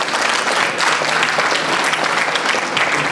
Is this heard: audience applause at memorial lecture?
yes